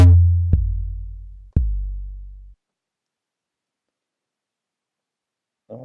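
Kick drum samples triggered on a drum pad sequencer, three deep booming hits with sustained low tails, two in quick succession then one more, followed by silence and a brief faint sound at the very end.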